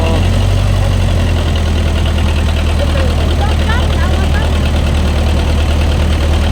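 Boat engine idling at a river crossing in Laos: a loud, close, continuous low rumble with steady mechanical vibration and knocking texture, with voices faintly underneath.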